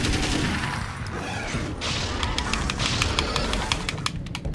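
Rapid gunfire in Alan Wake's American Nightmare, a dense, loud burst of repeated shots layered over a busy game soundtrack, with sharp cracks recurring through the second half.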